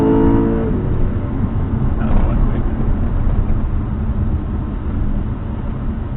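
Loud, rumbling engine noise from a BMW M3 revving, close and continuous, with a rough, throaty roar.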